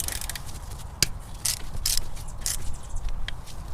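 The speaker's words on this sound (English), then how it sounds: "I'm going to get onto the head of the bolt with my ratchet" Close metallic clicking and scraping of a ratchet loosening a bolt on a Toyota 22RE engine, irregular bursts of sharp ticks over a low mechanical background.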